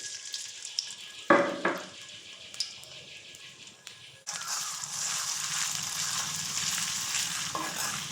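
Crushed garlic and cumin paste for mango pickle fry in hot oil. A loud burst of sizzling settles into a fainter crackle, then a broad, steady frying hiss holds close by with occasional stirring.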